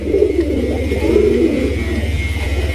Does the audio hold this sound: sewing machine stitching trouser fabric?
no